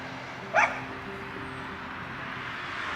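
A single dog bark sounds once at moderate distance in a Romanian village in Rotunda, Arges, standing out over a quiet, steady background hum.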